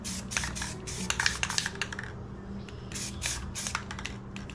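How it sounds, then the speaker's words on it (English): A spray paint can releases short, soft hissing bursts in close, uneven succession, with brief pauses and faint handling clicks between sprays while painting a planet with clouds. "Don't push it all the way down, but enough that it still sprays."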